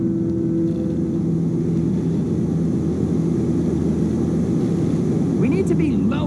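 An aircraft engine drones steadily in a video game, a loud, constant low hum with a humming tone that shifts near the end, while people talk over it.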